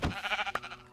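Several sheep bleats in a video game, a loud close bleat at the start followed by softer wavering bleats and a short sharp bleat near the end, heard alone with no talk.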